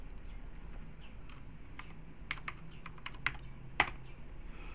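Typing on a computer keyboard while building a login screen in VB.NET, with sparse soft keystrokes over a steady low hum and a few sharper, louder clicks near the end.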